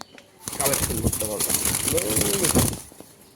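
Racing pigeons coo close by while someone talks over them for most of the clip.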